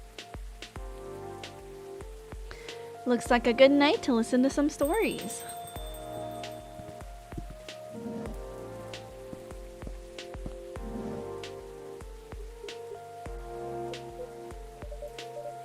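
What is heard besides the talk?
rain falling in video game Coffee Talk 2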